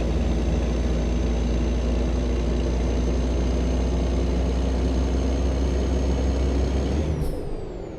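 A truck engine in a truck-driving video game drones loud and steady at cruising revs while working through the gears, then drops away abruptly near the end as a short hiss of air sounds.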